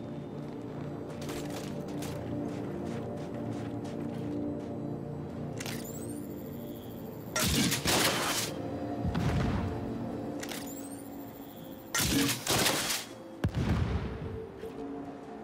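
Relic grenade launcher in Gears 5 firing straight ahead and bursting, heard as several loud explosive blasts with sharp cracks over a constant rumbling game backdrop.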